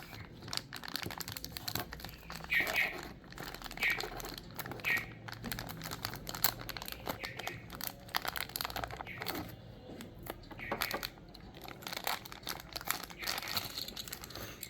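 Cutting into a sealed plastic blister pack holding a Tomica Lotus 3-Eleven die-cast toy car, with close crinkling and crumpling of plastic and small scraping snips, continuing steadily throughout with no talking.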